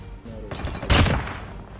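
Rapid bursts of MX9 submachine gun hipfire from Call of Duty Blackout, an expanded-magazine weapon, crackle loudly and close with a sharp peak near the middle, no talking over them.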